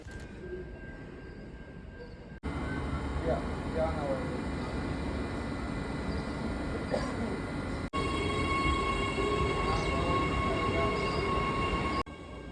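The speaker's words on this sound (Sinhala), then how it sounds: "ඒවා ඉන්ටර්ස්ටේට් බඩු ගෙනියන ට්‍රේන්. ඒවා ගොඩාක් දිගයි" A long interstate freight train rumbles steadily past at length, a continuous heavy rolling roar with faint wheel squeals, and a voice speaks briefly over it.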